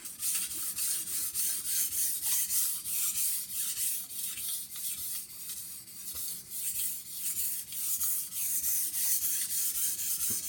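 A kitchen knife edge is stroked across a sharpening stone to remove a burr, producing repeated rhythmic scraping rubs, close and moderately loud, with short gaps between passes.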